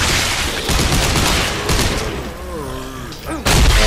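Weapon fire in the sci-fi horror shooter Dead Space 3, aimed at an enemy's hand: dense, continuous bursts of shots and impacts under game ambience, with faint tonal whines and a loud blast at the end.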